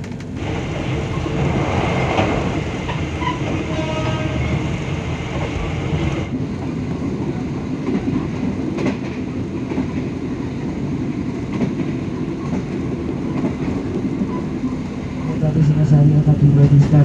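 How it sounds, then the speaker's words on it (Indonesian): KA Singasari passenger train running on rails after departing Karawang station, a steady rumbling roll with faint rhythmic clatter heard from inside a carriage, a voice talking over it throughout. "KA Singasari kembali diberangkatkan dari Stasiun Karawang jam 5:10 menit"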